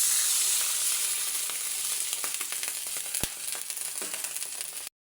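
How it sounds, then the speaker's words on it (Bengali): Water hits a hot pan with potatoes, beans and fish, giving a loud, steady sizzle with crackling pops that slowly ease before cutting off abruptly. "এবার আমি জল দিয়ে নেব"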